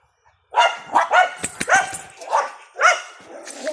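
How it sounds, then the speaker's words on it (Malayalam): A dog barks repeatedly and close by in a quick series of sharp, loud yelps and barks after a moment of silence, with no talk over it. "അടുത്ത പട്ടി വരുന്നു"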